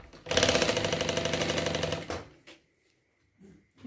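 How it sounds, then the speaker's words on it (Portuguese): Sewing machine stitching a pocket onto a travel bag: a close, rapid rhythmic mechanical chatter for about two seconds, then stopping, followed by faint handling noises. "Aqui embaixo você pode fazer uma costurinha."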